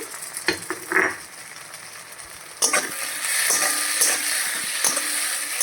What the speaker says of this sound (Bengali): নাড়িয়ে চাড়িয়ে একটু ভেজে নেব 2 মিনিট মতো